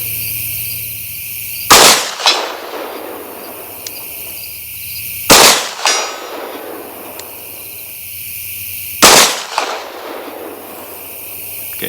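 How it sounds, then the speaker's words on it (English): Three rifle shots fired at a 100-yard target with iron sights outdoors in daylight, a rifle fitted with an Olight Valkyrie PL Turbo weapon light: sharp, loud cracks about three and a half seconds apart, each with a ringing echo tail. "shooting 100 yards with iron sights in daylight can be challenging"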